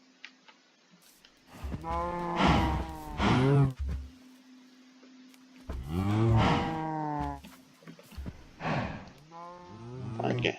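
Goofy-looking Minecraft cows in a mushroom biome let out several long, loud moos, one after another with pauses between, close and clear against a quiet background.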